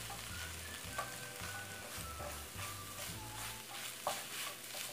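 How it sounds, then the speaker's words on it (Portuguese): Eggs with chopped mozzarella slices being stirred in a pan until the cheese melts, a steady close sizzle with soft scraping strokes of the utensil running throughout. "E aí a gente vai mexer até derreter toda a nossa mussarela."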